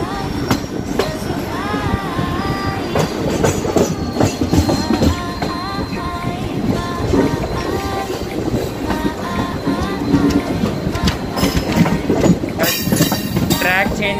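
Train rolling through a railway terminal, a steady rumbling clickety-clack of wheels on track with faint squeals, sustained and fairly loud beneath music and some voices.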